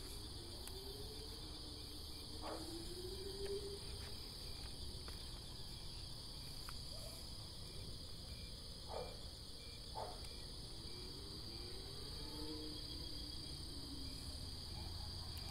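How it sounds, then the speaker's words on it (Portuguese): Steady, continuous high-pitched cricket chirping fills the night air, with a few faint distant calls and soft clicks scattered underneath. "só escuta barulho de grilo e mal tu escuta sapo aí"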